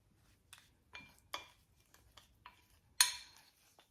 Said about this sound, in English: See, I'm just mixing it up.